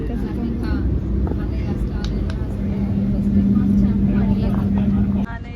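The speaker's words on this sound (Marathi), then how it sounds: "आर्विक फर्स्ट टाइम बसलाय मेट्रो मध्ये" Inside a moving metro train, a steady low rumble of the carriage runs continuously beneath people talking nearby.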